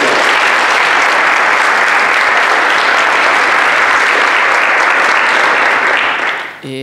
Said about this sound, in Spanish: para que pido un aplauso, a Pablo Rodríguez